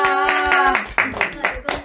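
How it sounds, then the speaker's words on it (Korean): A few people at a youth centre for people with developmental disabilities clap in short bursts after a voice speaks, with several sharp separate claps near the end. "박수."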